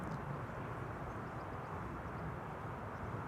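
A Boeing 777 taxiing across a runway at Schiphol gives a steady, distant jet engine rumble and whine, even and unbroken throughout.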